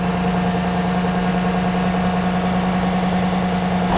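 A GM V8 truck engine, a Silverado or Tahoe 5.3 just fitted with new valve cover gaskets, idles steadily with a loud, even drone and a constant low hum, up close.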